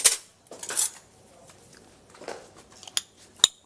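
Spoons and metal cutlery clink while being handled in a kitchen: a few sharp, bright taps at the start, another near the one-second mark, then two more crisp clicks toward the end, with quiet room noise between.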